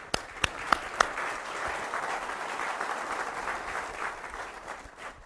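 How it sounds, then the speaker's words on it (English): Audience at a corporate presentation on Liberty CNG strategy breaks into sustained applause, beginning with a few sharp individual claps, then a dense, even wash of clapping that slowly fades. "I'd like to give a round of applause to everybody in this organization"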